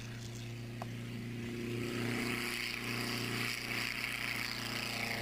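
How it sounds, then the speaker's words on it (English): Ganagobie light aircraft taking off from a hot tarmac runway, a steady droning engine and propeller hum that swells slightly as it gains power, heard continuously and fairly distant with no talk. "metres of sealed runway ahead of him, James has plenty of room for the takeoff."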